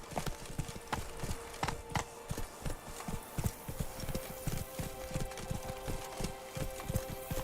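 A horse in The Witcher 3 trots in a steady, even clip-clop of hooves, close and moderately loud, with a faint ambient hum in the background.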